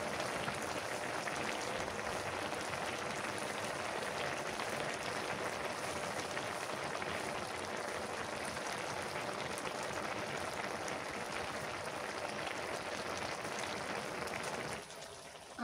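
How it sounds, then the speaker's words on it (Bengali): Rain falls steadily outdoors on a rainy day, a soft, even patter and hiss that fills the scene at low volume, thinning out abruptly near the end, with no one speaking. "বৃষ্টি আবার।"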